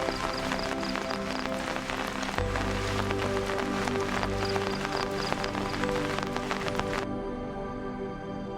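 Heavy monsoon rain pours down, a dense continuous hiss and patter of drops on surfaces, with a low rumble joining midway and the roar thinning near the end.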